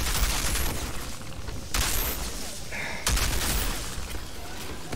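Shotgun fire in the video game Outriders comes in heavy, booming bursts, roughly three loud blasts spaced about a second and a half apart, with a dense rumble between them.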